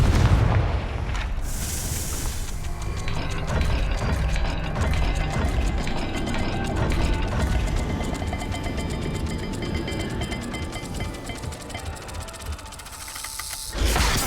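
A fiery Confringo spell blast in Hogwarts Legacy, set in Salazar Slytherin's maze, booms out and rumbles on in a dense, loud wash of explosive roar for most of the stretch, ending in a brief lull and a fresh burst.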